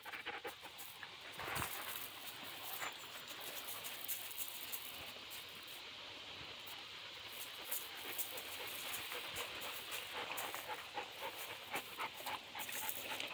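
Several dogs play in the morning, with steady close panting and scattered paw and movement noises throughout.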